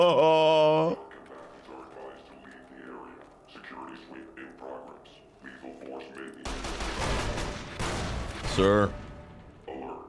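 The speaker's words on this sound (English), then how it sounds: "I don't appreciate you firing missiles at me" Enemy missile fire in Fallout: New Vegas, on the Lonesome Road: a dense burst of blasts and rattling impacts erupts midway and runs to the end, loud and close, with someone speaking briefly and other sounds before it.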